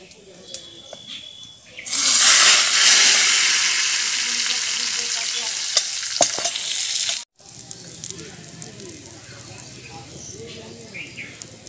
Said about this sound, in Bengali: এবার আমি এই ফোড়নটাকে আগে থেকে ঢেলে রাখা মাছের ঝোলের মধ্যে দিয়ে দেব।